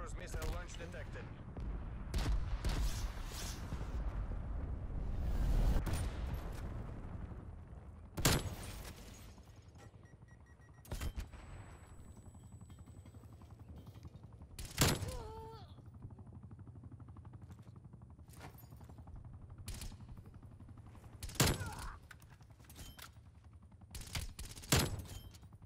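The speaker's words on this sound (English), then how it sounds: "Enemy napalm strike incoming" In a Call of Duty Black Ops Cold War multiplayer match, a napalm strike lands with rumbling explosions, followed by scattered loud gunshots and blasts spaced several seconds apart.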